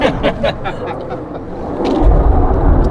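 Broad, steady roar of an airplane flying overhead, swelling louder toward the end of the short stretch, with people talking faintly underneath.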